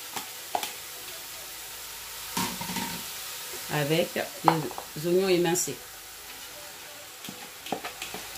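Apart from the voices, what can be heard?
zucchini flesh and onions frying in a pan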